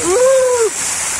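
Water pours and splashes beneath a cold waterfall shower at night at Cachoeira das Andorinhas in Espírito Santo, a steady close rush of spray with a brief rising-and-falling vocal cry over it.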